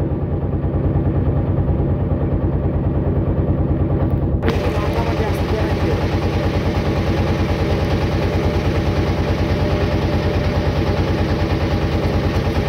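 A hired trawler boat cruising on Kaptai Lake in Rangamati, Bangladesh, runs its engine with a loud, close, steady throbbing drone that never lets up, its tone brightening slightly partway through.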